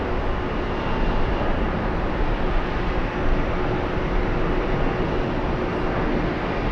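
Airliner bound for Rome at JFK airport, heard as a steady, loud broadband jet roar that holds evenly throughout with no talk over it.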